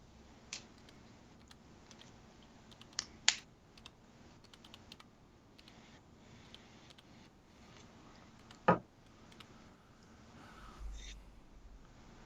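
Someone types quickly on a computer keyboard, sending out sparse, faint clicking keystrokes with a few louder taps in a quiet room.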